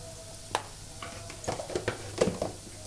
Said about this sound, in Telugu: పసుపు వేశాక మళ్ళీ ఒకసారి అంత కలిసేలా కలుపుకోండి